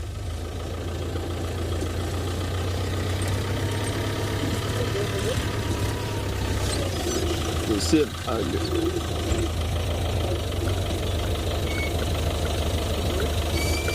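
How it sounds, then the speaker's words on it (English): A safari vehicle's engine idles with a low, steady rumble close by, continuing throughout while people talk over it, with a brief knock partway through. "It came through as I started the engine"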